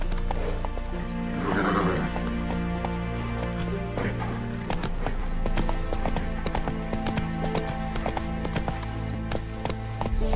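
Roach the horse gallops in The Witcher 3, a steady close clip-clop of hooves with occasional whinnies over continuous game ambience and music.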